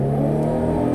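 A V6 engine in a 2016 Chevy Traverse SUV pulls hard under acceleration, a steady, loud, close drone with rising harmonic tones and no talk over it.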